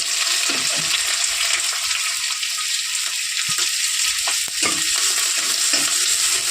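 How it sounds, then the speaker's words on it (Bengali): Onion and garlic fry in a pan for a radish greens dish, a steady close sizzle with occasional stirring clatter throughout, no voices. "পেঁয়াজটা দিয়ে ভালো করে একটু ভেজে নেব"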